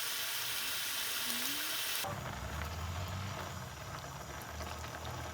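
Porcini mushrooms bubbling and simmering in a pot on the stove, a steady hiss and soft gurgle, faint and continuous without talk.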